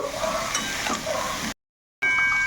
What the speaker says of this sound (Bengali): এটা ভালো করে একটু কষিয়ে নেব